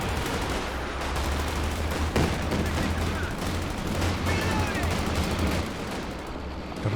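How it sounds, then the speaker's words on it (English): Katyusha rocket barrage in the video game Company of Heroes 2: a steady, loud stream of crackling launches and booming impacts rattles on for several seconds over a low engine drone, with one sharper blast standing out. "Just a regular Katyusha barrage here"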